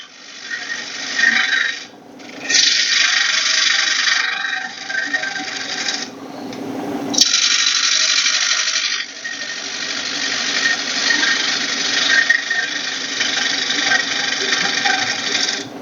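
A skew chisel, used like a scraper, cuts into a wooden bowl spinning on a lathe, giving a bright, hissing scrape in long steady passes broken by a few short pauses as the tool lifts and returns.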